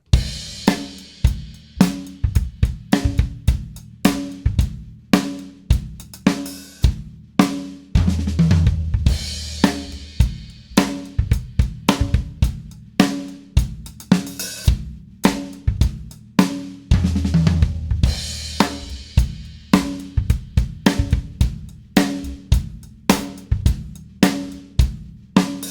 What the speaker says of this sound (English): I'll play a funk groove and a 4-bar phrase, and I'll play the 6-stroke roll as a 2-beat fill.